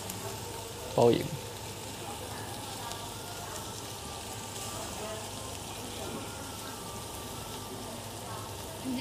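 Slices of pork belly sizzle on a restaurant grill with a steady, close frying hiss throughout, a brief voice speaking near the start.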